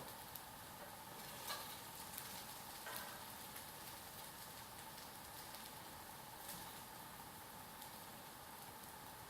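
Potatoes sizzling in hot oil in a pan for a South Indian poriyal, a steady, soft crackling hiss throughout with occasional faint pops and no voices.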